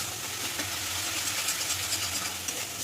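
Okra masala with sour yogurt is stir-fried in a pan, a loud continuous sizzle and hiss with scraping stirs, no voices.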